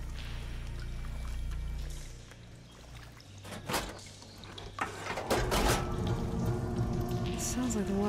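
Water rushing and flowing through valve machinery after a flow switch in the video game Horizon Forbidden West, with low rumbling at first, then clanks and a brighter surge of splashing water building toward the end.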